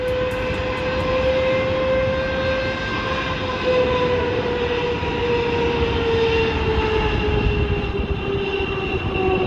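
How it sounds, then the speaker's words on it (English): A Boeing 777 jet engine blasts at full power and blows a trailer over, giving a loud, steady roar with a high whining tone that holds for the whole stretch, with no voices. "This trailer getting blown over by a Boeing 777 jet blast."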